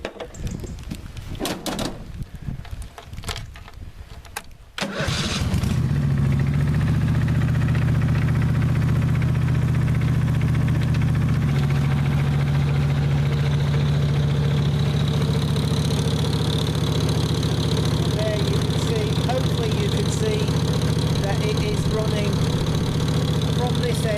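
After a few seconds of clattering handling, a Countax ride-on mower engine fitted with a collector sweeper starts and settles into a loud, steady running drone, with belt-driven whirring layered on top.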